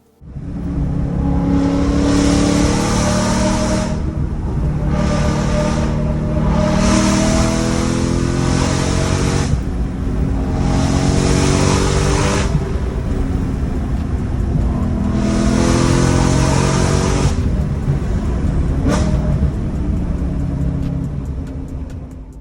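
A car engine revs and accelerates hard with repeated gear-driven surges while driving fast along a narrow, tree-lined mountain canyon road, loud and close throughout with no talking.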